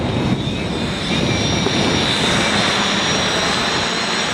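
A multirotor drone hovers in strong wind, its motors a steady, dense whine under heavy, roaring wind noise that masks much of the detail.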